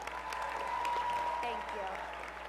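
A commencement audience at a county college graduation applauds a student speaker, a broad, continuous patter of clapping in a large hall, fairly distant and steady, with a faint voice underneath.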